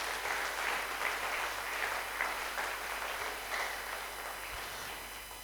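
A church congregation claps steadily and loudly through a service, a dense sustained applause that holds at an even level throughout.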